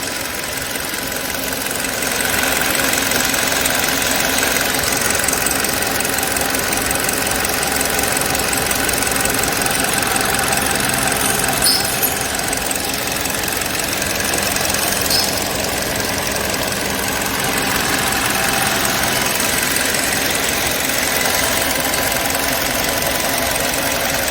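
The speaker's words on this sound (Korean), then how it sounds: "엔진룸에서 엔진의 소리를 한번 들어보시겠습니다" A Kia Sportage gasoline engine idles under the open hood, a steady close-up drone with faint wind and outdoor noise around it, continuing evenly with no speech.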